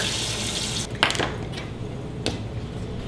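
Cornstarch stirred into cold water in a glass: a soft watery swish with a couple of light clinks of a utensil against the glass, close and brief.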